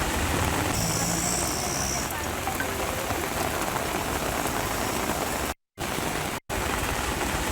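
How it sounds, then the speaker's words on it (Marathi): Heavy rain pours down steadily in Kalyan, a dense, constant hiss close by that fills the whole stretch, with a couple of brief dropouts near the end. "जोरदार पाऊस कोसळतो आहे।"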